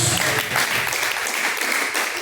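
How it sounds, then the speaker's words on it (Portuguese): A church congregation claps joyfully for Jesus, a dense burst of many hands applauding together, lively and near, with a faint voice mixed in. "receba e as palmas bem alegres para Jesus."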